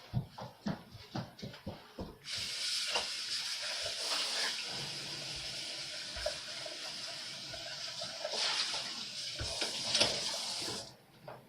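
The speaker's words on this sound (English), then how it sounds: "Let me rinse it because I had sugar in it." Tap water runs steadily for about nine seconds as a utensil is rinsed in a kitchen sink, the flow gushing and splashing with slight changes partway through, after a few soft clinks at the start.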